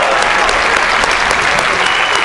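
A crowd applauds loudly at a table tennis match at the 2016 Swedish Open after a match point, a dense, sustained roar of clapping that stays even across the whole stretch.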